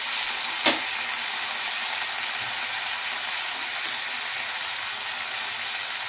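Pointed gourd and yardlong beans fried in oil in a pan, a steady close sizzle running throughout, broken early by one brief metallic scrape as the vegetables are lifted out.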